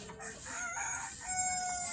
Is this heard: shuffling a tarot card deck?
no